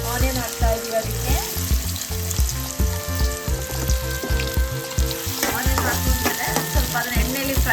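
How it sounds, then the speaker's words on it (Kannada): Chopped onion fries in hot oil for egg rice, a steady close sizzle with occasional stirring, running beneath loud rhythmic background music throughout. "ಸ್ವಲ್ಪ ಆನಿಯನ್ ಚೆನ್ನಾಗಿ ಫ್ರೈ ಆಗಬೇಕು"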